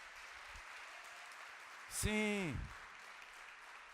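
Faint, steady clapping from a church congregation at Igreja Multi Vida runs as a soft, even wash throughout, while a single voice speaks briefly near the middle.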